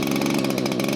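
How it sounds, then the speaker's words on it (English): A big STIHL MS 881 chainsaw runs steadily at close range, its loud, buzzing, even engine tone filling the short moment with no pauses. "Right, STIHL MS 881. Let's see how loud she is."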